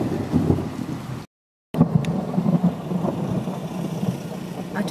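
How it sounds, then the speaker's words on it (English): Low rumbling thunder rolls beneath steady rain, heard from inside a van in a car park, broken by a brief moment of silence before the storm noise returns. "Some more thunder."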